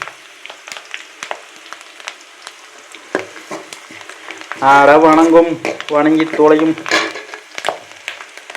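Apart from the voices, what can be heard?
food spluttering in frying pan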